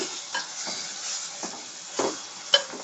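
Salted fish frying in oil in a pan, giving a steady soft sizzle with a few stirring scrapes and one sharp clink of utensil on metal near the end, with no talk.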